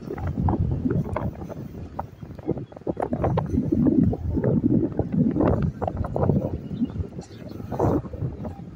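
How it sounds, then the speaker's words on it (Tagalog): Strong wind buffets the microphone on a dike at the shore at low tide, a continuous rough low rumble with gusty swells, close and steady throughout, with no talking. "napakalakas po ng hangin"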